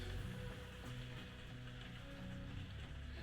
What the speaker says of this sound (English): Sorry if you can hear the noise, it's raining on the roof.